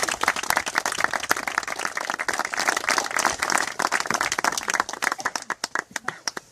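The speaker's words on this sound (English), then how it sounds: "So give him a big round of applause, baby." An audience applauds, dense clapping with a few sharp individual claps standing out, fairly close and steady, tapering toward the end.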